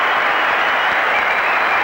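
A football crowd at the 1986–87 Full Members Cup Final between Blackburn Rovers and Charlton Athletic applauds a substituted player, a broad, steady wash of stadium clapping, loud and continuous.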